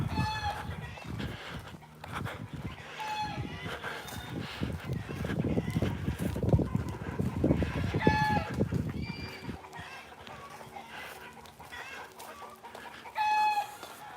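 A large bird calls repeatedly on a hot rare fruit farm, its clucking, crowing cries rising at intervals over a constant outdoor background, with a louder burst of rustling and movement in the middle.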